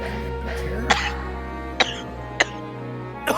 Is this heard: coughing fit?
yes